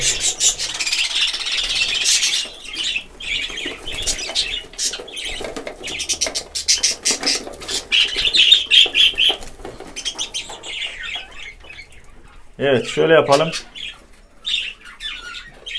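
A lutino budgerigar chirps in rapid scratchy bursts mixed with rustling and wing flaps, close and fairly loud, while someone speaks briefly near the end.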